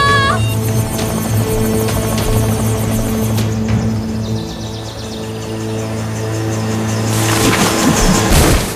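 A helicopter in the video game The Legacy 3 loses altitude with a steady, loud rotor drone and engine hum filling the scene, joined by shifting game music and effects layered on top.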